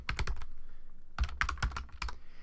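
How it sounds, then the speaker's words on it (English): Fingers typing on a computer keyboard, two quick bursts of clicking keystrokes with a short pause between, close by with no talking. "we'll just type in Happy Mother's Day"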